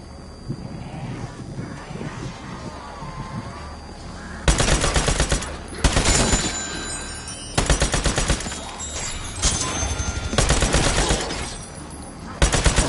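Rapid automatic gunfire in Black Ops 6 zombies mode comes in several loud sustained bursts, each a dense rattle of shots with short pauses between, over faint background game noise.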